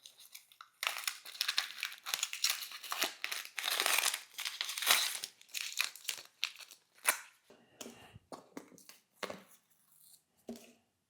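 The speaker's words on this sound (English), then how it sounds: "I'm hoping this part's gonna be pretty satisfying, removing the tape." Masking tape being peeled and crumpled off a freshly refinished BMW E30 differential, a close run of crinkling, tearing rips and papery rustles that bunch up early and then thin into scattered tugs and crackles.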